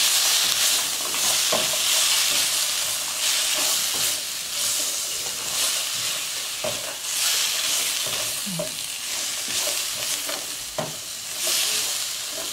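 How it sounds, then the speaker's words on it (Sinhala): Soy sauce and sugar are stirred into buttered mushrooms frying in a pan, giving a steady loud sizzle broken by repeated scraping strokes of a spoon against the pan, with no voices. "ඒ ටික දාලා හොඳට කලවම් කරගමු."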